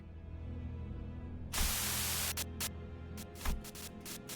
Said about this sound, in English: Sudden buzz of white noise breaks through the truck's silence.